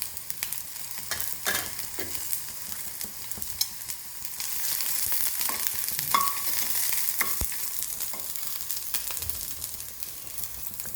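Onion, green chilli and ginger sauté in a pan for a Kerala pappadam dish, a steady low sizzle and frying hiss broken by frequent scraping and clacking stir strokes, close and continuous with no talk.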